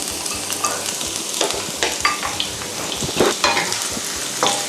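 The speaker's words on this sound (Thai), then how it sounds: "ผมก็จะ ใส่หัวหอมลงไปผัดเลย" Onions sizzle loudly in a hot pan while being stir-fried and scraped for chicken samosa filling, with frequent clattering strokes of a utensil.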